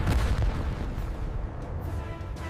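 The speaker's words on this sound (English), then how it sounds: "Explosion sound." A deep, rolling explosion rumble, heavy in the low end, fills the whole stretch and slowly thins out, with no voices over it.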